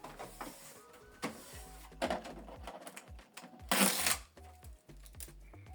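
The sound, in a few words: Canon PIXMA TS4150 printer ink cartridge holder moving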